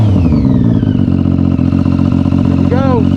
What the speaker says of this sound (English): I'll fire this thing up and we'll take her for a rip.